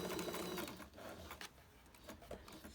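A domestic sewing machine back stitching fabric for an apron dress with a short stitch length, giving a close, steady mechanical whirr that pauses briefly and then resumes in shorter bursts.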